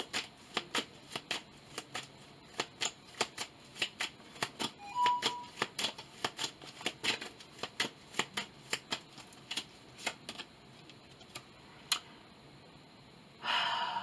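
An oracle card deck being shuffled by hand, a long run of quick papery riffles and snaps that come in irregular bursts, close and fairly quiet, with a brief louder rustle near the end.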